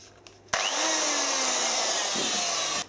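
A Banggood 240 volt die grinder starts with a sharp click and spins up into a loud, steady high-pitched whine that holds close and constant for a couple of seconds, then cuts off, with no voices.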